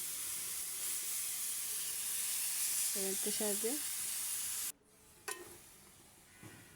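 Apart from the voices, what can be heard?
grated carrots frying in ghee and oil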